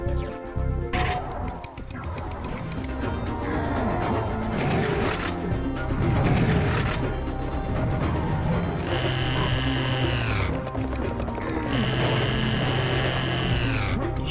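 A chainsaw in the shooter game Serious Sam revs as a loud, sustained buzzing whine, rising and falling in pitch across two long bursts over a busy backdrop of gunfire and crashing game effects.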